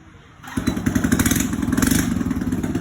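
A scooter engine starts up and runs steadily, a loud buzzing idle with rattly texture, close by and alone.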